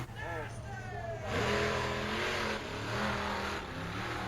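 A loud monster truck engine revs and roars steadily, rising in pitch and holding at high throttle, with a crowd or voices faintly underneath, at a monster truck event in Ransomville, New York.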